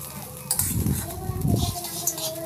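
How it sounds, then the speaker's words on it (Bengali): A spoon stirs basanti pulao rice with fried cashews and raisins in a pan over a low gas flame, giving two bursts of scraping and clinking against the metal, close and moderately loud. "আর একটু নেড়ে চেড়ে নিচ্ছি"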